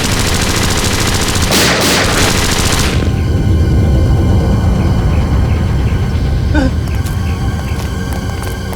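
A missile launched from an island as a TV drama sound effect: a loud roaring blast with rattling, gunfire-like bursts that fade into a steady rumble, with no voices.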